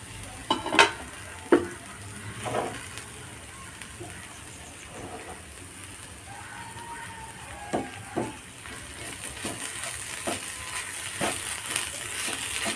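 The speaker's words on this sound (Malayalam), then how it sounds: "ഇനി തുറന്ന് നോക്കിയിട്ടൊന്ന് ഇളക്കി കൊടുക്കാം" Cabbage masala roast stirred in a pan, with a few sharp scraping clinks of the spoon early on over a faint, steady sizzle and occasional soft knocks against the pan.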